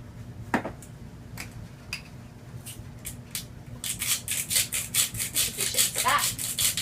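A pepper grinder rasps in quick repeated twists over kale salad dressing, close and fairly loud in the second half, after a few softer clicks and scrapes.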